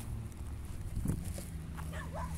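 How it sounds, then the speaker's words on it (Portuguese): Faint, distant yips and whimpers from a female dog over a low background hum, with a soft thump midway and no clear speech. "Quem tá latindo?"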